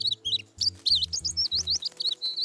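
A baby bird in a cartoon chirps in quick, high, wavering tweets that run almost nonstop, close and clear, over a soft low musical backing.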